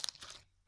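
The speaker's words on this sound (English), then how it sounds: "the next one is this foam slime. It's super big, nice and crunchy," Foam slime gives a short burst of crisp crackling and popping up close, fading out within a second, with no talking.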